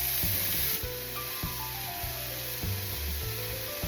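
Broccoli hits hot oil with fried dried chillies, and a steady, close sizzle and hiss runs throughout, with rhythmic stirring scrapes repeating about every half second.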